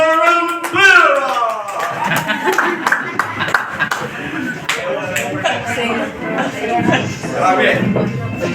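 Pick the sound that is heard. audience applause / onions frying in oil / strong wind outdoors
audience applause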